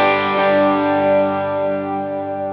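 A Gretsch guitar with Filtertron pickups at full volume rings out a single full strummed chord that sustains and slowly decays, loud and close with slight effects shimmer and no talking.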